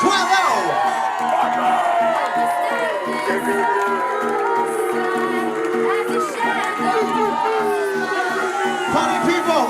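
A lively wedding crowd cheers, whoops and shouts continuously at close range, with excited chatter mixed into the din.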